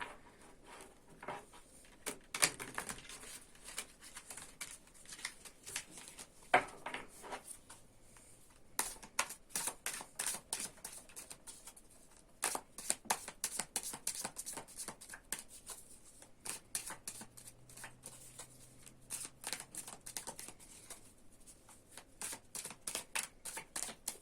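Tarot cards are shuffled repeatedly, a long run of crisp riffling bursts and soft slaps, close up and fairly quiet, with a faint low hum in places.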